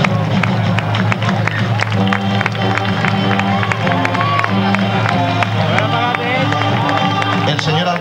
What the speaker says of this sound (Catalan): Un aplaudiment, per favor.